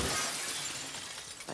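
Glass shattering in The Last of Us Part II, a single loud crash at the start trailing off into tinkling debris, heard alone.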